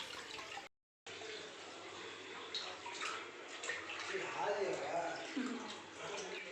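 Chicken leg pieces being rinsed with turmeric in water, a steady wet sloshing and splashing with running-water noise, close by and continuous after a brief cut near the start.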